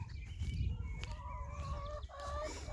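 Hens cluck and call in a backyard garden near a rhubarb patch on a hot day. The steady, fairly close clucking runs throughout over a low background rumble.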